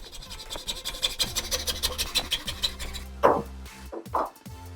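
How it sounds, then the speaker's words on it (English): A hacksaw cuts through a pipe held in a vise, with a quick run of rhythmic rasping strokes up close, then a pause and a couple of slower, heavier final strokes. "I'll take my hacksaw and just cut it along the line."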